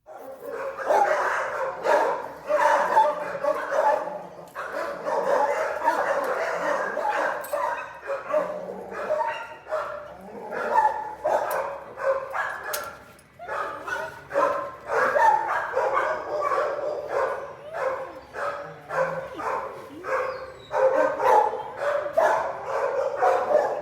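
A dog at an animal shelter barks again and again during a cuddling visit. Sharp barks and yips come in bursts, with whimpers between them, clear and fairly close for the whole stretch.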